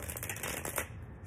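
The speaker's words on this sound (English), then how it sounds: "Let me twist and shuffle this." Tarot cards shuffled by hand in a short, steady burst of papery riffling and flicking, close and fairly loud, with no talking over it.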